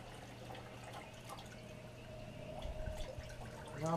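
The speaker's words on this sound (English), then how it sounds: "Drain water, most water out of them you can." Water drains and trickles off tanning hides lifted from a borax soak, a faint, steady dripping and splashing that grows slightly louder toward the end.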